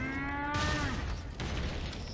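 A cyborg cow in Metal Gear Rising: Revengeance lets out a single drawn-out, mechanical-sounding moo, loud and alone, followed by a burst of noisy game effects.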